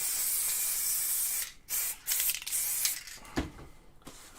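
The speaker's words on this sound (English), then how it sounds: "Layering spray over the top." Aerosol spray misted in bursts over model railway forest floor scenery, a close, loud hiss broken by brief pauses and a few short puffs, with no talking.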